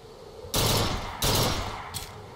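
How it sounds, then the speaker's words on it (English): A burst rifle firing in BioShock Infinite: two loud, close bursts of rapid shots about a second apart, each ringing off, then a brief sharp crack near the end, with no talking. "Ooh, that's a burst rifle."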